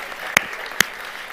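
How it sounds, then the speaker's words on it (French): A church audience claps during a sermon, a brief soft wash of applause with two sharp, loud individual claps standing out near the front. "Vous pouvez vous applaudir"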